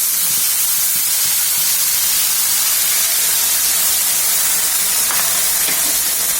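Onion paste goes into very hot oil for mutton kosha, a Bengali dish, and gives off a loud, steady sizzling hiss that fills the whole stretch with no letup and no talking.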